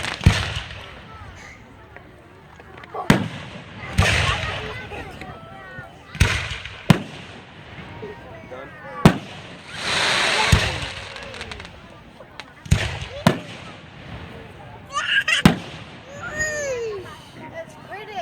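Fireworks going off at a 2016 display in Stockton, Illinois: repeated sharp bangs and crackling bursts at irregular intervals, some near and loud, with adults and children talking throughout.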